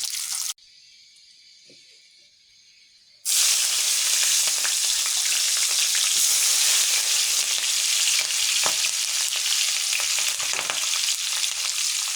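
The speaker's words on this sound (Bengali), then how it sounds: "ডিমগুলো হালকা করে ভেজে নেব" Eggs coated in salt and turmeric fry in a pan with a loud, dense, crackling sizzle that starts after a brief quiet gap and carries on steadily to the end, no voices.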